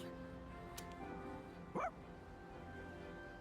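A dog, Koromaru from the video game Persona 3 Reload, gives one short yip-like bark midway, faint under quiet background music.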